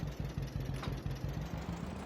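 A tractor engine in Farming Simulator 22 labours steadily while hauling a bale roll bigger than itself, with a low rhythmic chugging pulse repeating about five times a second throughout, close and continuous.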